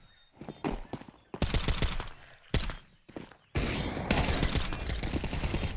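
Bursts of Counter-Strike gunfire in a FaZe versus VP professional match: sharp rapid shots in clusters with short gaps, then a sustained loud stretch of continuous firing near the end.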